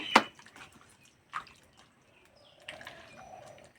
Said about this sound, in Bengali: এই আমে অল্প একটু জল দেব। এবার আমগুলো এইভাবে গুলে নেব।